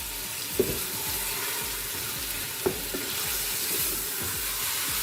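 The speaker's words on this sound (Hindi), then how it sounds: "कीमे को हम लहसुन में फ्राई करेंगे।" Minced mutton frying with garlic in a pan for a keema and capsicum dish, a steady close crackling sizzle with a couple of sharp knocks from a spoon, no voices.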